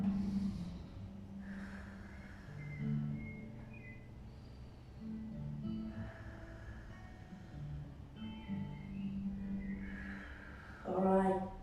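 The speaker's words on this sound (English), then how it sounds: "breathe in, breathe out." Soft, slow breaths drawn in and let out during a yoga-style child's pose stretch on a mat, close and gentle, with a louder sharp exhale near the end and a faint voice murmuring beneath.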